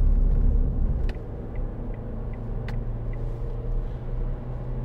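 Steady low engine drone and road rumble inside a 2010 Ford Fiesta 1.4 Titanium petrol hatchback while driving, with a few faint clicks, continuous and fairly loud throughout.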